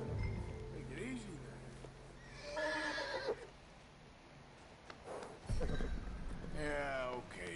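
Horse in a video game whinnying several times between clip-clopping hooves, the neighs loud and close, with someone talking over parts of it.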